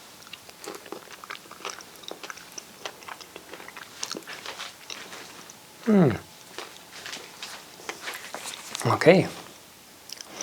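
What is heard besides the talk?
biting and chewing a Peter's Honey fig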